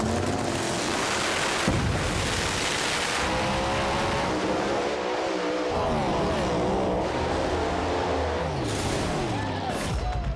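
Race cars roaring and accelerating hard in an outdoor street race in Australia, a loud, continuous engine din with rising revs and passing swells across the whole stretch, with a commentator's voice over it.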